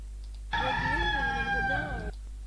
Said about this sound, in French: on se rend compte que le coq il crie là